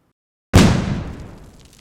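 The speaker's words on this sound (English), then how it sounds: "we can layer the explosions together and end up with a more impactful explosion that blends nicely with the particles on the tail end" Several explosion sound effects are layered into one designed blast. It starts as a sudden heavy boom after silence, then decays into a long rumbling, crackling tail that fades out.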